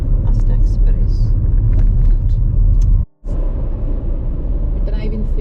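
Car driving along a road on the Isle of Skye in winter, a steady interior engine and tyre rumble with people chatting over it and one abrupt brief dropout midway.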